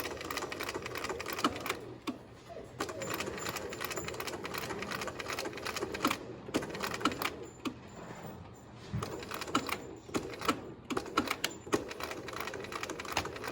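A domestic sewing machine runs a zigzag stitch through several fabric layers of a medical face mask, a steady close mechanical chatter broken by brief pauses and restarts.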